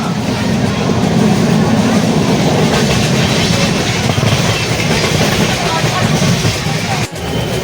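A Sealdah–Puri Duronto Express train rolls along steadily past Dum Dum Junction with a loud, continuous rumble and rattling wheels, close and unbroken, with a brief dip near the end.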